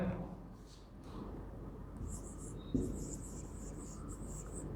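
Chalk or marker scratches across a classroom board in short bursts of squeaky strokes, fairly faint, with a quiet room hum and a brief knock partway through.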